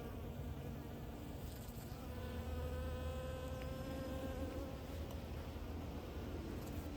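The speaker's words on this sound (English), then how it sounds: "the bees are out in full force. They love the poppy flowers" Bees buzz around opium poppy flowers in a spring garden, a steady, fairly faint drone with individual insects passing close and drifting away, and no voices.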